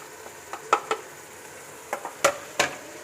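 A spoon scrapes and clinks against a karahi while spices and beef are mixed for Shinwari beef karahi, several sharp metallic strokes in irregular pairs over a faint sizzle, close and clear with no voices.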